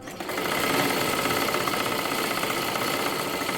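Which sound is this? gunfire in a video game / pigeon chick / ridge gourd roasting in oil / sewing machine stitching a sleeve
sewing machine stitching a sleeve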